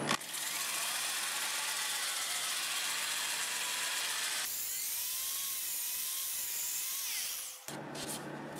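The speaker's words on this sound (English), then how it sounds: "About 450 and the lathe is turning forward." A wood lathe spins a live-edge plum crotch bowl at about 450 rpm during sanding, giving a steady, loud, high-pitched whine that shifts in tone partway through and dips briefly near the end.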